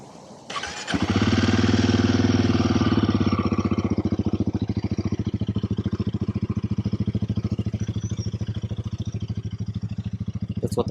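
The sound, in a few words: motorcycle engine idling, stock exhaust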